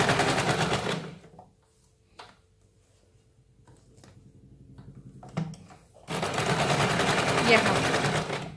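A sewing machine stitches a katori blouse in two fast, rattling bursts at either end, with a quieter stretch between them holding a few clicks and faint handling.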